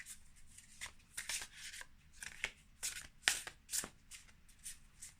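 Tarot cards being shuffled and drawn, close crisp riffling bursts and soft slaps coming in uneven clusters, quiet and alone without speech.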